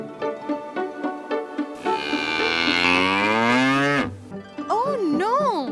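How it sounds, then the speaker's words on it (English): Animated farm cow mooing, a long loud drawn-out moo following rhythmic background music, then bouncy playful tones after it. "Cows moo."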